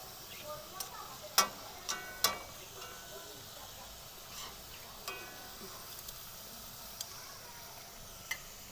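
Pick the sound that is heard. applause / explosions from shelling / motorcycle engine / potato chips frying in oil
potato chips frying in oil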